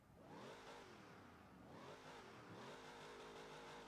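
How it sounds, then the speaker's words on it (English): A car engine in Forza Horizon 4 revs in repeated rising and falling sweeps, steady and continuous, with no talk over it. "I'm pretty sure this is a new engine."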